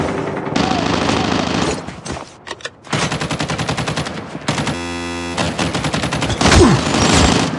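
Rapid automatic gunfire in Call of Duty Mobile, with dense bursts of machine-gun fire and single shots coming close and loud in quick succession, broken by brief pauses.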